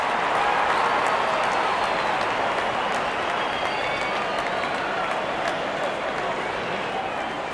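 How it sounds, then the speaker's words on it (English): Spectators at Faisalabad stadium applaud during a Pakistan vs Australia one-day cricket match, a broad, distant roar of clapping that holds steady throughout with crowd murmur mixed in. "Wonderful 50 and the crowd applauds."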